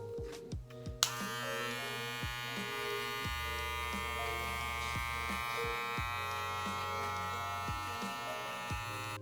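Electric hair clipper buzzing steadily while cutting a bald fade, a loud close hum after switch-on with faint clicks and shifts in tone as the blade moves through hair; no talking.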